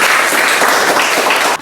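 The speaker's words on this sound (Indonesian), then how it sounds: "kita berikan aplaus untuk kelas" A classroom group applauds together, a dense, loud burst of clapping that runs steadily for about a second and a half before cutting off abruptly.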